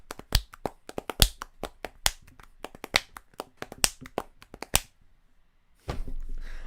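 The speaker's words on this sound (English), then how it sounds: "do the clap you do in your other channel" A rapid, irregular run of sharp hand claps rings out close and loud for about five seconds, then stops. A short silence follows, and a steady rustling noise comes in at the end.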